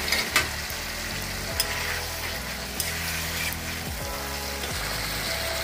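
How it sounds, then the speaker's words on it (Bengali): Fried potatoes added to the masala for a rohu fish curry over a raised flame, sizzling steadily and loudly with a few sharp knocks and scrapes of a spatula, close and with no talking. "এবারে দিয়ে দেব মশলার উপরে ভেজে রাখা আলুগুলো।"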